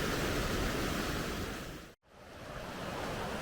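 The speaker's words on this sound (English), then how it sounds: "This is one of the many rivers that flows through the mountains." Blue mountain river in Kananaskis, Alberta, rushing with a steady broadband roar, loud and close, continuous apart from a brief cut in the middle.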